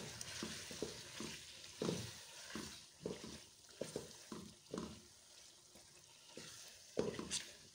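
Fried chicken, about 1.5 kilos, stirred and mixed in a karahi for Quetta Chaman chicken karahi, with repeated scraping strokes over a steady sizzle, close and fairly quiet, no talking.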